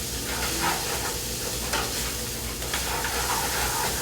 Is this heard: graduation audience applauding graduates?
no